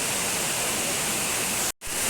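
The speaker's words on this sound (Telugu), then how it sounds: "ఎలిఫెంట్ వాటర్ ఫాల్స్ ఏదో ఉంది" Elephant Falls in Shillong, Meghalaya roars as a steady, loud, broadband rush of falling water, close by, with a momentary dropout near the end.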